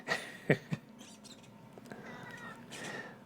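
A cat gives a couple of short, sharp meows close by, followed by quiet room noise and a faint later call.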